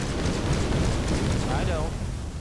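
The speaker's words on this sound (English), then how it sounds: "Call that a fire breath?" Enemy fire breath in Dark Souls Remastered roars as a loud, continuous rushing blast with a broad rumbling whoosh that fades slightly at the end, while a voice speaks briefly over it.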